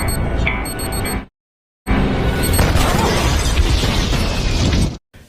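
A loud explosion in a film scene as a character is blown up, a dense roaring blast with crackling debris that fills the clip, broken by a brief silent gap, with no speech.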